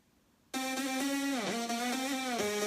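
A dry synth line with no effects, played on a Nexus synth, enters abruptly after half a second of quiet. It holds a sustained bright tone whose pitch steps down twice in quick glides, loud and alone.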